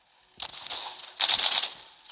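Automatic machine gun fire in the mobile game Walking Zombie 2 as the player shoots at zombies, two loud rattling bursts with a short pause between them and no talking.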